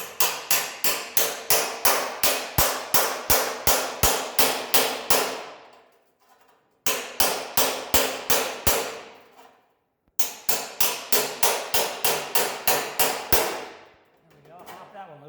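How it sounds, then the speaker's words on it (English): Loud, rapid metallic hammer blows driving a chisel between two spot-welded metal pieces, in three long runs, each a steady rhythmic series of sharp ringing strikes, separated by brief pauses. "I'm going to take my chisel, put it in there"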